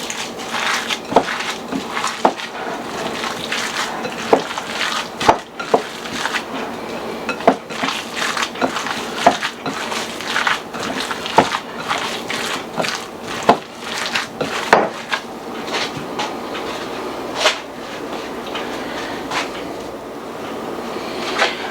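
Albondigas meatball mixture being mixed thoroughly by hand in a bowl, an irregular run of soft squishes and knocks against the bowl, close and steady with no talking.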